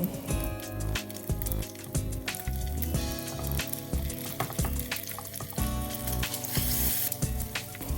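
Egg omelette with winged beans frying in oil over low heat, a steady close bubbling sizzle with irregular wet pops and squishy crackles running throughout, no talking.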